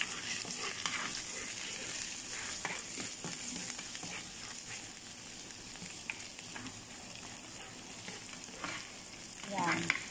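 Garlic fries in a pan for saffron shrimp pasta, giving a continuous soft crackling sizzle with occasional stirring scrapes, fairly quiet and close, swelling briefly near the end.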